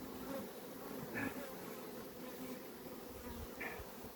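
Carpathian honey bees buzz softly around the hive, a faint steady hum with a few brief louder passes, no voices.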